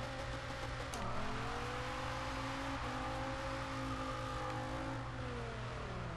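Dodge Viper in Forza Horizon 2 pulling away from a standstill, its engine holding a loud, steady drone with rising harmonic bands as it accelerates through the gears, running continuously with no talk.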